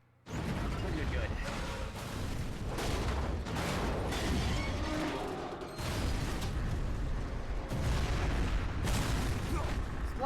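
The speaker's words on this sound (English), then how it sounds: "Explosions." Explosions in the video game Metal Gear Solid: Peace Walker, a dense series of loud booming blasts with rumbling, mechanical clatter that keeps going, with a brief lull partway through.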